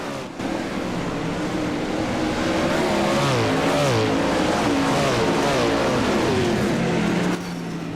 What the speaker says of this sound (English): I wanted to let you hear the sights and the sound of the 410 sprint cars here at the Bad Bat Sim Racers.